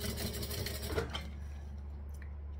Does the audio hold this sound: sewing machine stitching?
yes